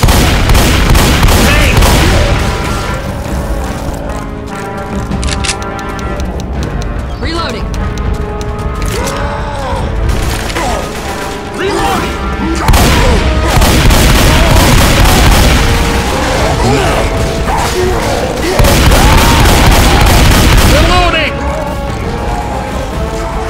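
Grenade blasts and heavy gunfire in the video game Left 4 Dead 2, loud and continuous with booming explosions and rapid shots, while characters shout over the chaos.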